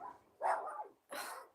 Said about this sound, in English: they're making the dogs bark.